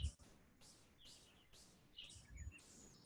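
Birds singing outdoors, faint repeated high chirps and short song phrases in a quiet open setting, recurring every half second or so, with a soft voice briefly present.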